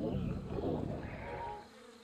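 Buzzing insects in the video game Zelda: Breath of the Wild, a soft, steady droning hum that fades slightly toward the end.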